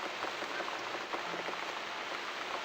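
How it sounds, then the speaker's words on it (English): Steady rain patters densely in the video game The Cat Lady, a continuous, even hiss of drops on surfaces with no voices over it. "Looks like we got the rain back."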